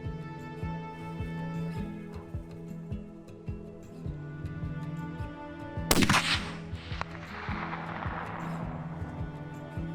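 A single loud 300 PRC rifle shot fired while hunting pig in California, a sharp crack around the middle followed by a rolling echo that fades, over steady background noise.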